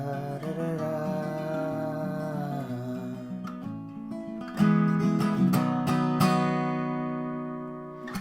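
Acoustic guitar playing a song's chord progression, picked and then strummed near and alone, with sharp strum attacks standing out midway through the phrase.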